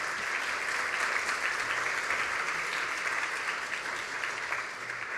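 A conference audience at an online safety event gives steady, sustained applause, a dense wash of many hands clapping at a moderate distance, holding even before easing slightly at the end.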